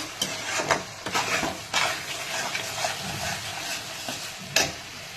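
Punjabi masala for pindi chana sizzles in oil in a pan, with steady frying crackle and repeated scraping stirs and spoon knocks against the pan, close up.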